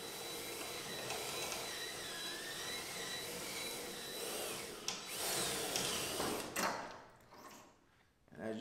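A power drill whines steadily while drilling out the last rivet holding trim during a teardown, running close and continuous for several seconds before spinning down, with a brief burst and some rattling at the end.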